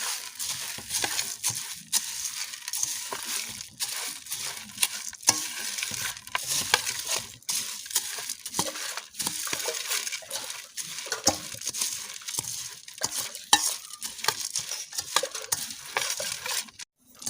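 Puffed rice being tossed and mixed with spices in a bowl for mint charmuri, irregular crisp rustling and scraping strokes, close and fairly quiet, with no talking.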